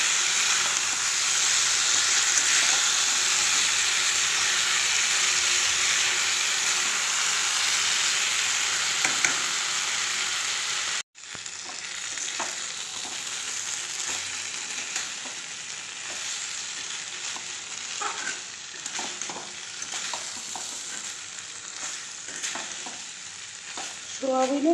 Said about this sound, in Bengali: তো আমি একটু সিম্পলভাবেই সোয়াবিনটা করছি। একটু ভালো করে কষিয়ে দিচ্ছি।